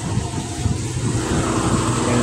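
A vehicle stuck in deep mud on a rural road revs its engine, a loud, continuous straining roar that holds steady and rises slightly toward the end, close by.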